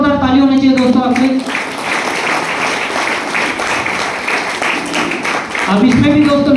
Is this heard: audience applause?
yes